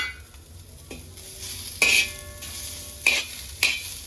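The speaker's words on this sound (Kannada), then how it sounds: "ಇವಾಗ ಇದೇ ಹಂಚೊಳಗಡೆ ನಾನು 1 ಈರುಳ್ಳಿನ ಈ ರೀತಿಯಾಗಿ ಕಟ್ ಮಾಡ್ಕೊಂಡಿರೋದನ್ನು ಹಾಕ್ಕೊಂಡು ಇದೇ ಹಂಚಲ್ಲಿ ಹುರ್ಕೊಳ್ತೀನಿ" Chopped onion fries on a pan in a quiet kitchen, with a soft sizzle underneath and a few sharp scrapes of a utensil stirring it.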